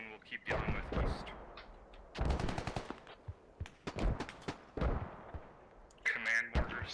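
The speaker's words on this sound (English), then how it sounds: "Command mortars firing on Grand Elm." Mortar and gunfire in the Company of Heroes video game: a rapid series of loud, sharp blasts arriving in clustered bursts with short gaps between, some booming and others crackling, sounding close and dominating the mix.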